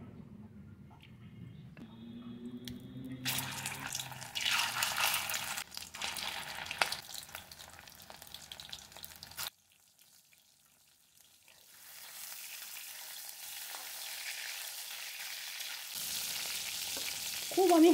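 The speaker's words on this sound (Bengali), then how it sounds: "খুব আমি হার্ড করে ভাজবো না, অল্প অল্প ভাজলেই আমার হয়ে যাবে।" Shrimp frying in oil, cooked lightly for a curry, makes a soft sizzle with a few scrapes, then a quiet gap before the frying hiss returns and builds steadily toward the end.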